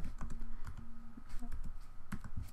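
Fast, close typing on a computer keyboard, a dense run of small clicks and key taps with brief pauses, alone without talk.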